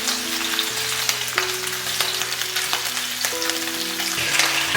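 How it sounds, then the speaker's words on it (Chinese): Meatballs turned over in hot oil keep up a steady, close frying sizzle with soft crackle throughout, no voices present. "把底面煎定型了，给它翻面煎。"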